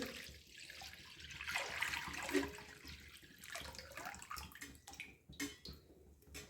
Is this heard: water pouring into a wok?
yes